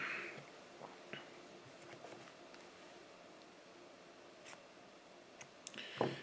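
Scissors snip craft fur on a fishing fly being tied, a few quiet, scattered cuts close by in an otherwise hushed room, with a slightly louder snip at the end.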